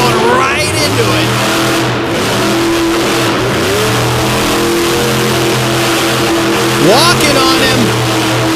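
A competition car's engine revs hard as its tires break loose and spin on concrete at a Madison show event, a loud, sustained roar with rising and falling pitch under an announcer's commentary.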